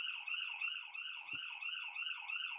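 A loud electronic siren alert from the Pulsara emergency medicine app wails steadily, its pitch rising and falling in a smooth repeating cycle, with no voices.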